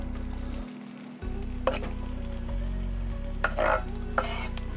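Onions and mushrooms frying in a pan at a camp stove, stirred with a few scraping knocks over a steady sizzle and a low hum.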